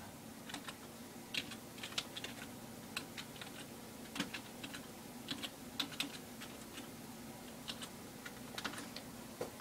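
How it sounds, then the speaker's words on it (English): Fingers type a command on a computer keyboard in a steady run of light, quick key clicks with small irregular pauses. The sound is faint and close, with a soft background hum and no talking. "So you're going to type that in."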